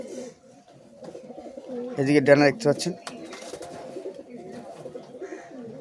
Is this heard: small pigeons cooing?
yes